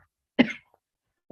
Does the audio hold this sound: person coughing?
yes